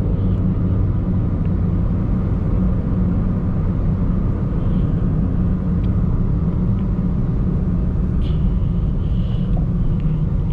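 Steady low rumble of heavy city traffic heard from inside a Toyota Yaris 1.3, with constant engine and road noise and a few faint higher sounds from outside, and no speech.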